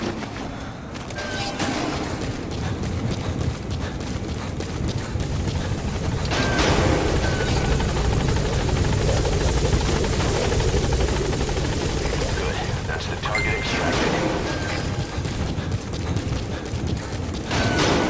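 In Metal Gear Solid V, a helicopter arrives in game, its loud rotor and engine roar building and holding steady for the whole stretch, with mechanical noise and a few sharp bursts layered on top.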